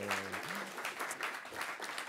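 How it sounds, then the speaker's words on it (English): A small group gives a short burst of applause with scattered clapping, fairly close, mixed with brief vocal sounds at the start. "We just wanted a round of applause"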